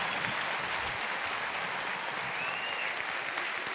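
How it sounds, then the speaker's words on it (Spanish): Loud, continuous applause from a cabaret show audience in Guadalajara, a thick, even roar of many clapping hands with faint crowd noise mixed in. "¡Fuerte el aplauso para Rebeca y Ramón David Leonardo Julián!"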